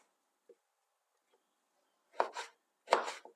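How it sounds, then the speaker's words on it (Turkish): A knife chops through eggplant on a board: one faint tap, then two firm chopping strokes close by, each with a brief scraping tail. "Bütün patlıcanlarımı bu şekilde ben hepsini doğrayıp tavama alacağım şimdi"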